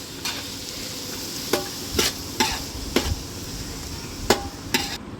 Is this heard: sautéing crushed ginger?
yes